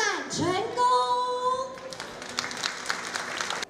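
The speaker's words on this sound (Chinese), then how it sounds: "我们是不是再一次掌声见证？" A crowd at a Taiwan Lantern Festival host-city handover ceremony breaks into brisk applause, a short burst of clapping following a voice.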